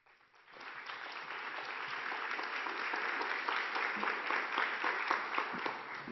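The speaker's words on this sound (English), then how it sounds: "I didn't even introduce her and you're already clapping." An audience at a talk applauds a speaker about to be introduced, the clapping rising quickly from quiet into a steady, dense patter of many hands that carries on for several seconds at a moderate, slightly distant level.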